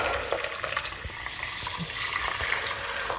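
Hot water poured into a cooking mixture on the stove makes a steady, close hissing and splashing rush, with faint sizzling and stirring texture throughout and no voices.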